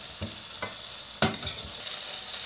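Garlic and ginger paste being stirred into vegetables frying in a pan, a steady sizzle broken by a few sharp scraping strokes of the spoon, close up with no voices.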